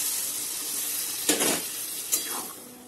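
Lentils poured into a pan of well-fried potatoes for an aloo dal: a steady sizzle runs throughout, with two sharp bursts of louder hissing and clatter as the dal goes in.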